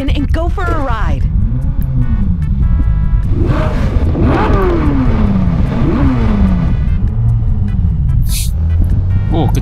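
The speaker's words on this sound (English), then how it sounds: "Start the engine and go for a ride." A sports car's engine starts and revs repeatedly in the racing game Test Drive Unlimited 2, rising and falling in loud sweeping pitches that carry on steadily throughout, with voices talking over it.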